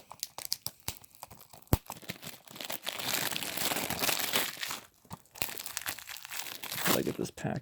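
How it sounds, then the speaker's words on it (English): Plastic wrapping torn off a Criterion disc box, crinkling and tearing in close bursts with sharp snaps and steady crackle, a voice speaking in places. "Gotta get this packaging off."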